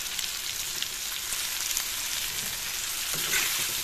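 Small fish frying in a pan make a dense, constant sizzle up close, with light crackling over it and no talking.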